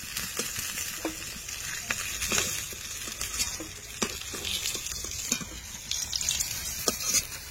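Katla fish pieces frying in hot oil in a home kitchen pan, a steady close sizzle broken by repeated sharp clinks and scrapes of a utensil turning and lifting the fish.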